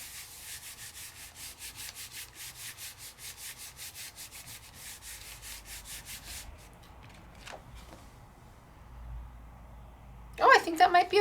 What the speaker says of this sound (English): I don't know if I can get a good stamped image just doing a back rub